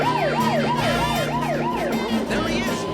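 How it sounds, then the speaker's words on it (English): A police car siren in an animated cartoon wails in a fast rising-and-falling cycle over a vehicle engine, loud and close, cutting off near the end. "Hit the siren."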